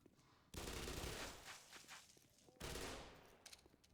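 Sustained automatic gunfire in the first-person shooter Black Mesa, two long loud bursts of rapid shots separated by a short gap, with a few scattered single shots trailing at the end.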